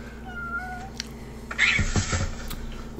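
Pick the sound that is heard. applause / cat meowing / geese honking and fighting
cat meowing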